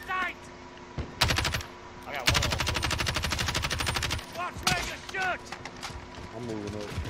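Rapid automatic gunfire bursts from a Kilo rifle in the Warzone video game, with a long sustained burst in the middle and shorter volleys around it, loud and close, while players talk over the game sounds.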